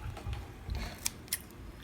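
Scissors snip at a kusamono plant during pruning, giving two sharp, close clicks over a low background rumble.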